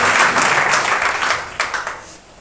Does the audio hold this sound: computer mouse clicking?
no